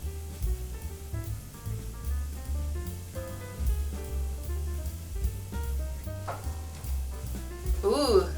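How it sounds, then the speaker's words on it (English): Squash blossoms sautéing in a pan make a soft, steady sizzle with occasional stirring, heard quietly beneath music with melodic notes. "so basically you're just sauteing them until they wilt"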